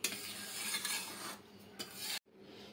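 A spoon stirring and scraping inside a bowl of raw milk and chocolate ice cream mixture, continuous close rasping strokes that stop abruptly near the end, then resume softly.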